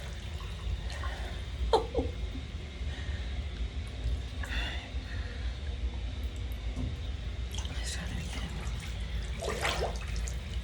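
Water in an ice bath sloshes and splashes as a person lowers in and dunks, a steady wash of liquid noise with a few sharper splashes and drips, close by and moderately loud.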